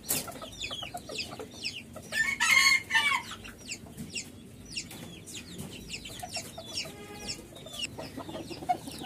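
A pair of five-month-old Japanese bantam chickens, a male and a female, cluck repeatedly in short sharp bursts, with a crow rising clearly around the middle, close by amid faint background noise.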